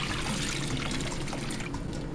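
Chicken broth or water pours into a cooking pot for yellow rice with chicken breast, a continuous close splashing trickle filling the whole moment.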